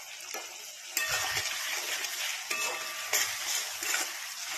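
Freshly ground spice paste goes into onions frying in hot oil for an egg curry and is stirred. A steady sizzle swells with each stir, with soft scraping and a few louder bursts of frying.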